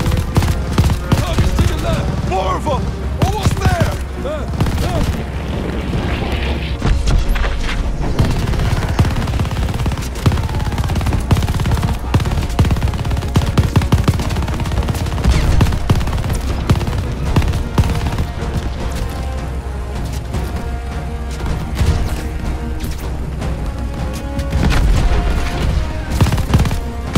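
Dense, continuous gunfire from a Call of Duty Vanguard battle on the Pacific front at Bougainville, with machine-gun bursts, rifle shots and occasional booms layered under shouted voices for the whole stretch.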